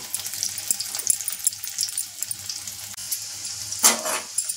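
Boiled potatoes sautéing in a pan, giving a continuous crackling fry with a scrape of the spatula near the end.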